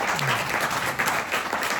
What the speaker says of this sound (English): let's give a round of applause to all the awesome teachers we've had in our lives